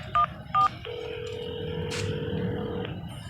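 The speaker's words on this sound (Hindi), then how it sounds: "उसने फोन मिलाया।" A telephone is dialed: two short beeping keypad tones, then a long steady tone that holds for about two seconds, heard close and clear over faint background hum.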